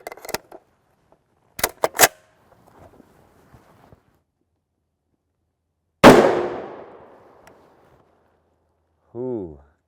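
An M14A1 rifle fires a 152 grain armor piercing incendiary round at an armor plate outdoors, one loud sharp report with a rolling tail, preceded by soft handling clicks and followed by a brief voice.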